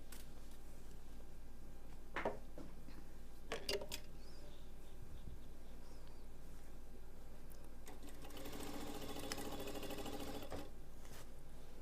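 A sewing machine fitted with a T3 presser foot stitches a suit, starting after a few sharp clicks and handling sounds, then running in a fast, close, rattling burst for about three seconds near the end.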